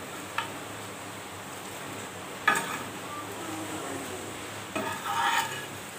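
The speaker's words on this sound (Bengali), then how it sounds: "এভাবেই একে একে সবগুলো বড়া ভেজে নেব।" Pumpkin leaf fritters (chal kumra pata bora) frying in a pan give a steady, fairly quiet sizzle, broken by a few sharp utensil clinks and scrapes against the pan; no one speaks.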